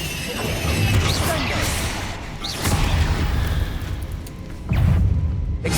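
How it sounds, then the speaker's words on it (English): Bombarda explosive spell in Hogwarts Legacy, a series of crashing booms with debris-like clatter, three main impacts spaced a couple of seconds apart, loud and close. "Bombarda!"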